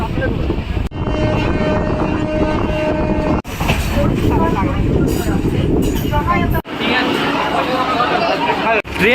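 A local passenger train on the Jhargram to Digha line runs along with steady rumbling, rattling carriage noise and abrupt shifts in the din, as people talk over it.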